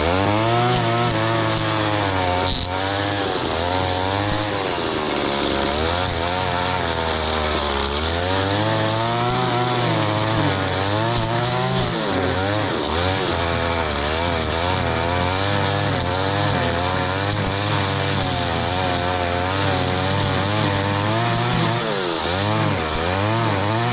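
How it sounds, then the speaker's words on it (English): A STIHL FS80 string trimmer fitted with a Chinese carburettor runs loud and close while cutting grass, its two-stroke engine droning steadily and rising and falling in pitch as the throttle opens and eases off. "we'll go whack a bit of our grass and see if it's working"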